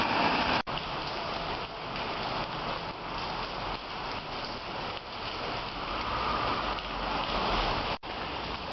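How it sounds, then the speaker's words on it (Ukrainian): Steady, dense rainfall in Lviv hisses evenly throughout, a continuous patter on hard surfaces with no voices. "Сьогодні у Львові дощ"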